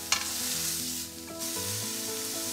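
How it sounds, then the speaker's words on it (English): An oiled beef fillet searing in a pan on an induction hob, a loud continuous close sizzle and crackle with a sharp sputter near the start and a brief dip midway, no talking. "I want a good sear on all sides of the beef"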